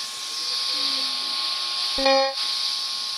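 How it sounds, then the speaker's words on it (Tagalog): A steady electronic TV hiss in Roblox fills the clip, broken near the end by a brief low tonal blare, with no talking. "nakakatakot naman yung tunog ng TV"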